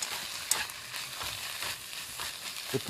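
Minced green onion and garlic are stir-fried in a pan, making a soft, steady sizzle with scraping stir strokes and a few sharp clicks. It sounds fairly quiet and close, with no talking.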